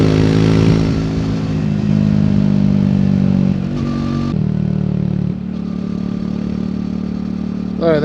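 Engine of a 2024 Triumph Speed 400 motorcycle rolling on the throttle on an open road, a steady close engine drone that pitches and shifts as it accelerates, with wind rush and no talking.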